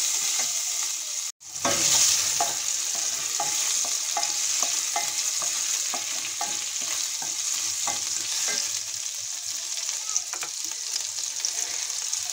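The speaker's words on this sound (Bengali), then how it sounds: "আদাটা আমি একটু ভেজে নেব।" Ginger frying in a pan for a potato dish, a steady close sizzle with light scraping and clinking from repeated stirring, after a brief break in the sound near the start.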